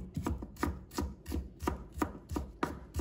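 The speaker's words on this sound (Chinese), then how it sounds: "接下来我们准备一块生姜，把它切成片" Knife chopping fresh ginger on a cutting board, a steady series of about ten crisp, close thuds at an even quick rhythm, with no voices.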